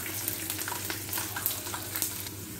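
Bay leaf, cumin seeds and whole garlic crackle and sizzle steadily in hot oil for a tadka, a continuous dense frying hiss with scattered sharp pops, close and fairly quiet, no talking.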